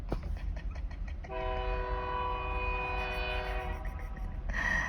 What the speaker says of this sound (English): the trains and stuff don't blow their horns like that